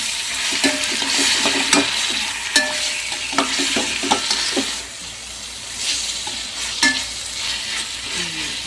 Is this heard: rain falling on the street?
no